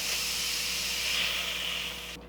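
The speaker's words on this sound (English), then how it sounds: "And then we'll just let the steam release." Steam hisses steadily and loudly from the quick release of a pressure cooker that is covered with a towel, then cuts off abruptly near the end.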